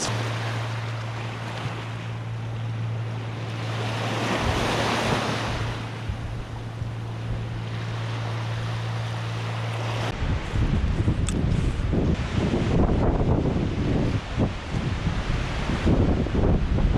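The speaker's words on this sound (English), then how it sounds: "It's quite windy today." Strong wind gusts roar against the microphone beside a cheap tent outdoors in broad, rushing waves, growing rougher and more buffeting toward the end, with no voices.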